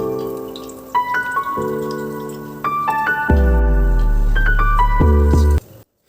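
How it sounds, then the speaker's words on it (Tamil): Water pours from a tap into a child's plastic water bottle in a kitchen, a steady splashing stream whose pitch shifts as the bottle fills, stopping at the end. "இப்போ குழந்தைங்களோட வாட்டர் பாட்டிலில் தண்ணி தான் ஃபில் பண்ணி எடுக்கிறேன்."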